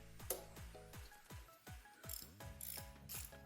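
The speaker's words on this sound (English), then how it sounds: "Get your ratchet set up." Ratchet wrench tightening a bolt on a Kia Sportage 2.5L camshaft position sensor, a rapid run of metallic ratcheting clicks in short strokes, close up and quiet.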